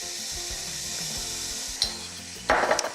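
Chopped onion and minced garlic sautéing in a pot for curried lentils, with a soft steady sizzle, a few light utensil clicks, and a louder burst of frying near the end.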